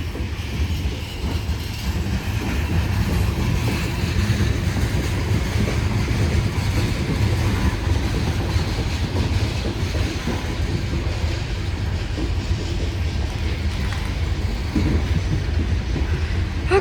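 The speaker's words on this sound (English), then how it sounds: "I like this train. Might be stopping. It's going really nice and slow." A Union Pacific freight train rolls slowly past in Newport, Arkansas. A loud, steady rumble of wheels and cars holds close and unbroken throughout, with faint clatter and no voices.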